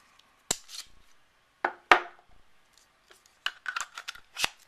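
A Glock 27 magazine is pushed into a BlackHawk Serpa mag carrier, giving sharp, close plastic clicks and snaps with brief rattling handling between them.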